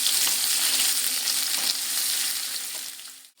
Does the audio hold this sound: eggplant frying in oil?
yes